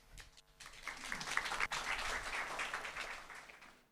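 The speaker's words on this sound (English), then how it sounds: "But please join me first in giving him a round of applause." Symposium audience claps steadily for a speaker for about four seconds, swelling quickly and then tapering off at the end; moderately quiet and heard from within the room.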